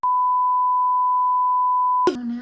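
A phone gives a long, steady electronic beep for about two seconds, loud and clean, before a voice briefly cuts in.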